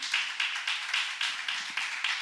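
A church congregation applauds in steady rhythmic claps, a full crowd clapping together in regular beats throughout, moderately loud with no talking.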